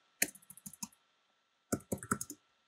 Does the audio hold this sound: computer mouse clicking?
yes